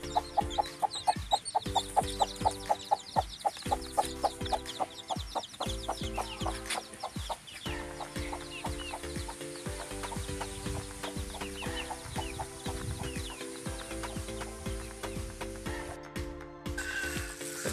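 Chickens in a small backyard coop cluck repeatedly against a busy, rhythmic background of steady pulsing tones. No voices are heard.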